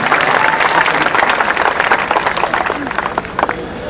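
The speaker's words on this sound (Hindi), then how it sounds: "एक बार पूरी कमेटी के लिए तालियां बजाएं साहब" Audience applause for the organizing committee at a Hindi comic poetry recital, dense and steady clapping filling the whole stretch, with a voice faintly present beneath it.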